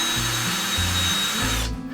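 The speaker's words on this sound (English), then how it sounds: "he's going to go in and drill those pilot holes" A power drill bores pilot holes for screws into wood for railroad layout tables, whining steadily as its pitch shifts with load, loud and close, then spinning down at the end.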